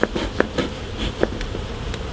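Honey bees buzzing inside an opened hive during a UK hive inspection, a soft close hum with brief louder buzzes as individual bees pass.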